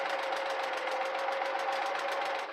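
A sewing machine back stitching while working on a junk journal, a steady, continuous mechanical whir with a fast rhythmic needle patter, close and fairly loud, running alone for the whole stretch without speech.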